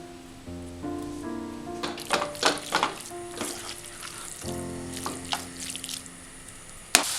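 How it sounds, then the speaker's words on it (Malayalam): Water poured into a pan of squid cooking with curry leaves sizzles and splashes in bursts over a steady frying hiss, with a few clinks and a sharp knock near the end. "ഒരു 1/4 കപ്പ് വെള്ളം കൂടി ഒഴിച്ചു കൊടുക്കാം"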